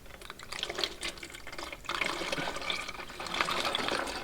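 Used engine oil pours through a funnel in a continuous close gurgling, splashing stream, its flow surging slightly, with no talking.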